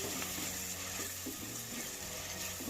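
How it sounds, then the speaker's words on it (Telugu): Tomatoes frying in a pan for a buffalo meat curry, giving a steady, even sizzle with faint stirring and scraping throughout, close and continuous with no talk. "బాగా వేపుకోవాలి"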